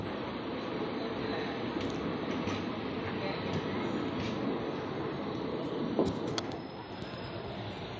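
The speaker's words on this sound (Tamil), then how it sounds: "கோயம்புத்தூர் டு பெங்களூர் போகக்கூடிய எக்ஸ்பிரஸ் வந்து அரேவ் ஆகிட்டு இருக்குங்க செகண்ட் பிளாட்ஃபார்மில்" Steady rumbling noise of an express train arriving fills the scene, a continuous rolling roar with clanks, heard from close by at a platform in Coimbatore, India.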